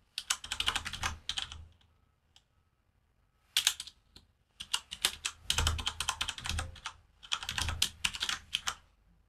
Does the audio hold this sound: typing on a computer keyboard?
yes